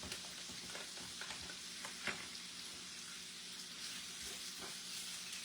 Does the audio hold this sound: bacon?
yes